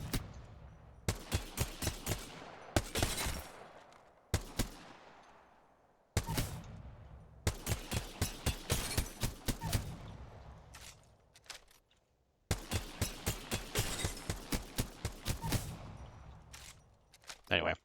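G7 Scout rifle firing in Apex Legends: several strings of rapid, evenly spaced semi-automatic shots, each burst of crisp cracks separated by brief pauses, close and punchy.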